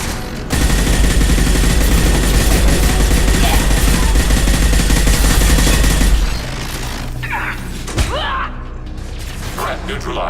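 Sustained, loud gunfire in the sci-fi shooter Mass Effect 2 (NoCom), continuous for about six seconds before dropping to quieter combat noise with a single sharp hit near the end.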